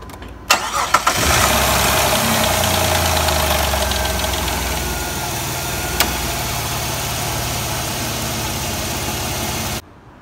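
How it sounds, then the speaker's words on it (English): A Jeep Liberty engine cranks, catches and settles into a loud, steady idle that runs for several seconds before cutting off, with no voices over it. "So you want to start it up for about 30 seconds."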